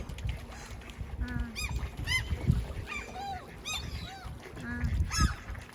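Several geese and ducks honk and quack repeatedly in short bursts over a steady low rumble, calls overlapping at moderate distance by the sea with no talking.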